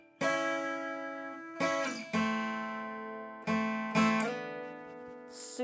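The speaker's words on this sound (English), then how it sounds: "another chorus, and then we have this bridge interlude, which is another kind of lead line." Acoustic guitar plays a bridge interlude lead line from a song using double stops, heard alone as five ringing, sustained phrases with sharp picked attacks and a bright final strum.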